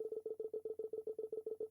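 Telephone number being dialed in the video game Paper Lily: a rapid, even run of about fourteen short keypad tones, clear and alone, stopping abruptly.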